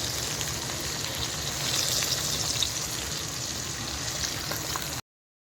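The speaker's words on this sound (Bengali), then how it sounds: "চলছে মাছ ভাজা।" Fish fries in hot oil with a constant crackling sizzle, dense and fairly close, swelling slightly partway through before cutting off abruptly near the end.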